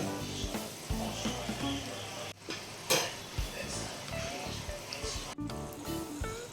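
Tomato pieces frying and being stirred into ridge gourd curry in a pan: steady sizzling with scraping stirs and a few sharp utensil clicks against the pot.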